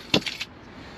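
Keys being pulled from the ignition of a 2006 Toyota Sequoia jangle in a brief, close metallic rattle of a few quick clinks, then fade into quiet.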